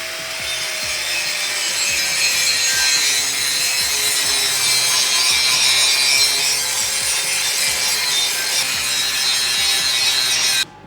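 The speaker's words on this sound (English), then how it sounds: "keeping our grinder at an angle so that we keep a nice bevel on the plate as we grind the mill scale" Angle grinder held at an angle, grinding mill scale off a steel plate to put a bevel on it for V-groove weld prep: a steady, loud abrasive rasping whine lasting about ten seconds, then stopping abruptly.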